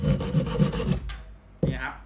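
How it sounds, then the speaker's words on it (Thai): A Japanese pull saw works through pallet wood in a rasping run of strokes for about a second. Silence follows, then one more scraping pull. The strokes sound close and fairly loud, with nobody talking. "เลื่อยญี่ปุ่นตัวนี้นะครับเวลากินไม้เขาจะกินเวลาเราดึงเข้านะครับ"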